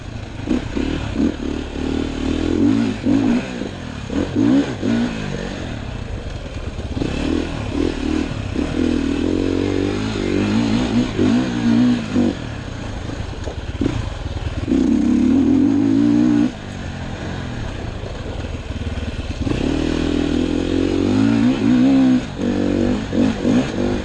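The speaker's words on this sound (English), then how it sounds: "I think we should go ride some motorcycles and have some fun" A Sherco 450 SEF-R Factory Edition motorcycle is ridden hard, its engine revving and dropping in repeated surges, with clatter and scraping from the terrain. The sound is close and loud throughout, with no talking.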